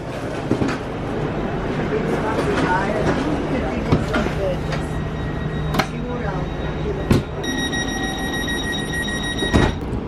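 A train rumbles at a Dortmund station platform on a February trip toward Hagen, with a low mechanical hum, scattered clanks and a few sharp knocks, then a high chime near the end, while a person talks over it.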